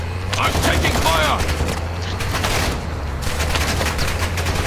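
Dense, sustained gunfire from a first-person military shooter video game, a continuous clatter of shots mixed with game effects, with a player's voice talking over it.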